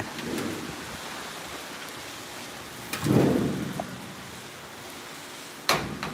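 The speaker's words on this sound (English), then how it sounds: "The rain is getting stronger." Heavy rain falls steadily during a storm in Aklan, Western Visayas, Philippines, a continuous hiss with a low rumble swelling midway and a sharp crack near the end.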